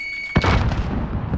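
A grenade explodes in Call of Duty Warzone: one sharp, heavy boom right up close, followed by a loud rumbling tail that slowly fades.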